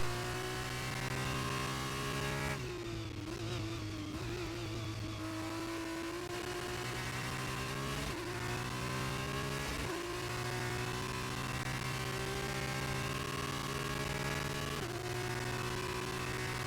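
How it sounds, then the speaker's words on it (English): Formula 2 race cars scream past in a game race, a steady high-pitched engine drone with gear shifts and pitch swoops as cars rev and pass, loud and continuous with no commentary. "Let's mute and listen to the lovely sound of these F2 cars."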